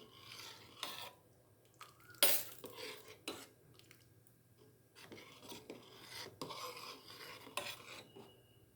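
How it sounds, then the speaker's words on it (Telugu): Spoon stirring jowar (sorghum) ambali in a pot, irregular scraping and rubbing strokes with occasional sharper clinks against the metal, close and quiet, no talking. "ఇలా కలుపుతూనే ఉండాలండి, ఎందుకంటే అది ఉండలు కట్టే అవకాశం ఉంటుందండి."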